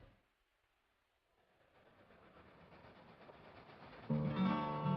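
A train rumbles closer from near silence, its steady clatter building until a loud horn-like blare sounds at the end.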